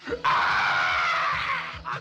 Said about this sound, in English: look at his scream